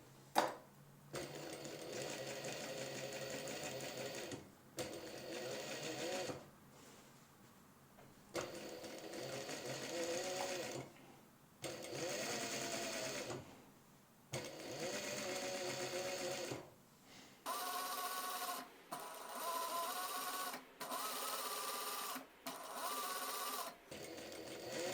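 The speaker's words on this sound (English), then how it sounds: "Attach the waistband machining around 2 mm from the canvas edge." Sewing machine stitching a waistband onto bespoke Gurkha trousers about 2 mm from the canvas edge, running in steady close bursts of several seconds each with brief pauses between, the final runs sounding faster and higher.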